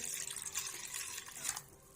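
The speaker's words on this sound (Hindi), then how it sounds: "अब पानी ऐड करेंगे।" Water pours steadily into a pot of chicken soup that already holds vinegar and salt, a close, continuous splashing rush that eases off toward the end.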